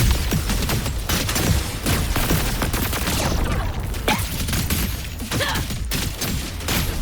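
Grenade explosions in the Wuthering Waves video game during the Cyberpunk: Edgerunners collab quest, a dense, loud run of overlapping blasts and bangs with rattling debris and combat noise throughout.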